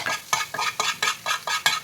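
An egg is stirred and fried in a pan for a cabbage gravy, with about seven quick, even scraping strokes in a steady rhythm over a soft sizzle.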